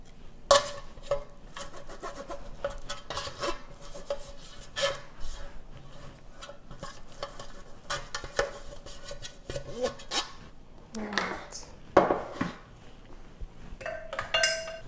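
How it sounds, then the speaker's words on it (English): Soft scraping and rubbing as vegetable shortening is spread over a baking pan for Southern biscuits, quiet irregular strokes with occasional light clinks of the pan, close by and alone. "I'll take a little bit of this vegetable shortening and coat my pan really well"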